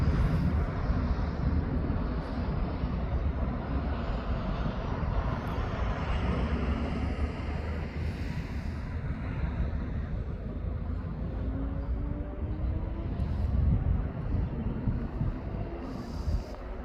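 An airliner approaches East Midlands Airport, a continuous broad jet roar with a slowly rising whine as it draws nearer, steady and fairly loud with wind rush and no talking.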